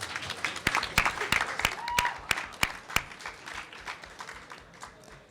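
An audience applauds at a student debate, claps building into a brisk patter then thinning out, with a few sharp individual claps standing out nearby.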